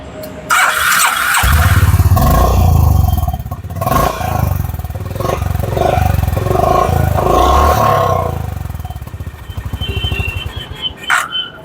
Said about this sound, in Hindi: अब मैं आपको सुनाने जा रहा हूँ हाइनेस वेव।